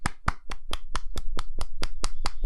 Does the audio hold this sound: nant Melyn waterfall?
no